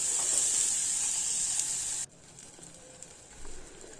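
Tomatoes half-frying with spices and onion in a pan give a bright, steady hiss for about two seconds, then drop to a faint low sizzle with a small bump near the end.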